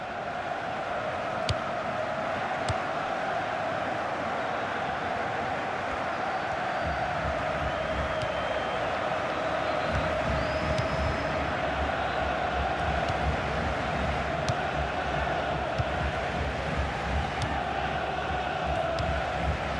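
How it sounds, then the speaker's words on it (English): A stadium crowd in the FIFA 16 football video game, at an FA Cup match, keeps up a steady, distant roar of chanting and cheering throughout, with no talk over it. "the crowd really enjoying it"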